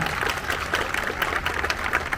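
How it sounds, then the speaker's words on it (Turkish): Wedding guests applaud the groom of two doctors' wedding, a steady crowd of hand claps that keeps up evenly for the brief moment. "Damat Bey'e de güçlü bir moral alkışı istiyorum"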